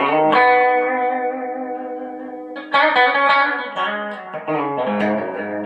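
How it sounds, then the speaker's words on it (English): An electric guitar played through a Hotone Tape EKO echo pedal with modulation, sustained chords and notes ringing with warbling repeats and a lush, wavering tail, close and clear with no talking. "it is a really gorgeous sounding a little echo pedal which has modulation on it"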